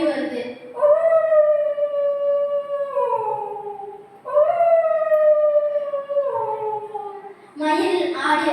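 A voice imitates a fox howling at a Tamil school mimicry event, two long rising-then-falling howls one after the other, loud and close, followed by a short vocal burst.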